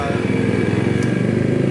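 An upgraded Yamaha RX King motorcycle engine runs steadily nearby, a loud, even two-stroke putter with a rhythmic low pulse throughout and no clear voices.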